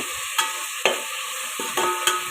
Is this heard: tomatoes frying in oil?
yes